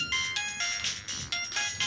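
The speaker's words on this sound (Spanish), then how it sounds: "ahí estoy recibiendo el llamado a través de mi teléfono" Mobile phone ringtone for an incoming call received over Bluetooth through an IP broadcast mixing console, a bright repeating electronic melody in short pulses, moderately loud and alone.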